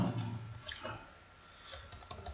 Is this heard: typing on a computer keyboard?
yes